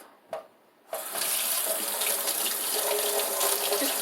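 Cold water gushes steadily from a kitchen tap into a sink after a couple of brief clicks, a loud, continuous splashing hiss that holds even to the end.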